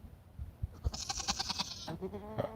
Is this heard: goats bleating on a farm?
yes